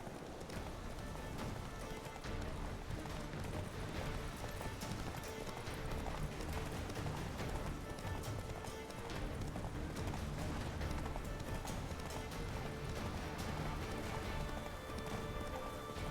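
Horse galloping in a race in The Witcher 3 video game, a continuous fast drumming of hooves held steady and close for the whole stretch, with a faint whinny and no talk over it.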